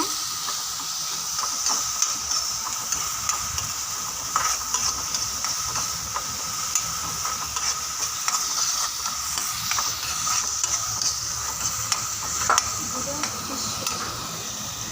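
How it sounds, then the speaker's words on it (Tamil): Ginger garlic paste and green chilies sauté in a pan, giving a steady close sizzle and hiss with scattered stirring clicks and scrapes throughout. "அதுக்கடுத்து இஞ்சி பூண்டு பேஸ்ட் போட்டுக்கிறாங்க. அதுக்கடுத்து பச்சை மிளகா. இப்போ நல்லா வணக்கிக்கோங்க."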